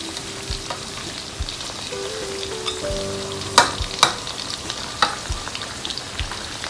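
Field rat legs fry in a pan in a forest camp setting, producing a continuous crackling sizzle broken by several sharp spatters and utensil knocks, heard up close with no talking.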